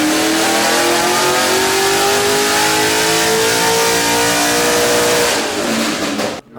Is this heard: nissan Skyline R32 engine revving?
yes